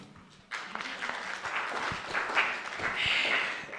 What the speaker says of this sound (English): We can give them a clap.